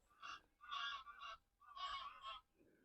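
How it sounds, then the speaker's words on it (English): Geese honking as they fly over on a damp April morning in a cottage garden, several clear honks in quick bursts, moderately distant. "Ducks flying over, or are they geese? Probably geese, I think."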